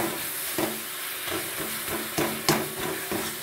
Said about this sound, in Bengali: এবার একটু ভালো করে নেড়ে চেড়ে শুকিয়ে নেব।